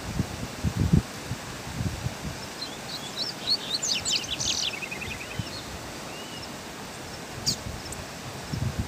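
A double-collared seedeater (coleiro) sings outdoors near a waterfall, with short bursts of bright chirping phrases over a steady rushing background and occasional low rustles and bumps.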